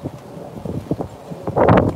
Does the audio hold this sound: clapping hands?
no